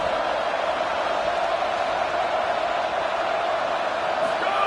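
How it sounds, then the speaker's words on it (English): A football stadium crowd at a Maryland vs Ole Miss game roars in a steady, sustained wall of noise, loud and unbroken as fans cheer on the defense. "This crowd is trying to inspire this defense to make a big red zone stop."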